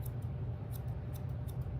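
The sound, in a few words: thinning scissors snipping dog fur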